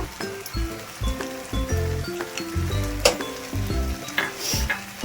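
Pasta with spring onion is stirred in a hot pan, with a spoon scraping and clinking against the metal in irregular strokes over a steady sizzle.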